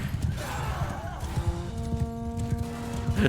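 Hooves clip-clop steadily in a dark video-game scene, rhythmic thuds under a sustained musical tone and occasional speech.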